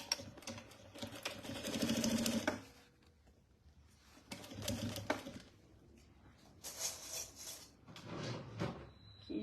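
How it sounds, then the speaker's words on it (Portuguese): A sewing machine stitches fabric for a small bread basket in bursts of rapid mechanical whirring, separated by quiet pauses and small handling clicks, close by. "vou fazer uma costura aqui com um pezinho de máquina"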